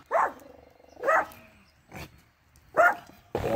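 A dog at a campsite barks at other dogs in four sharp, separate bursts spread across a few seconds, close and loud with brief whimpering tones between the barks.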